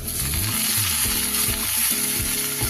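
Spices and aromatics frying steadily in hot oil for Bengali tadka dal, a loud continuous sizzle with stirring scrapes and low clatter throughout, no voices.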